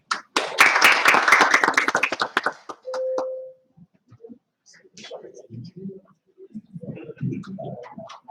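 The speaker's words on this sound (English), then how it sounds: "Big round of applause one more time." An audience at a workshop session applauds for about three seconds, a burst of clapping that fades out, followed by a short tone and scattered quiet talk.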